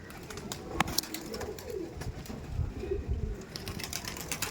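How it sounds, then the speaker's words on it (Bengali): Andhra pigeons, including a female, coo softly in a loft among other birds, with low repeated coos under background clatter and a few sharp sounds, fairly close. "আর এটা ফিমেল পায়রা আছে"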